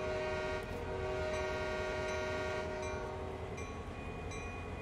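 Train noise from Train Sim World 2020 on the Oakville Subdivision, with a sustained rumble and steady horn tones that stay loud and constant throughout, close by and without any voices.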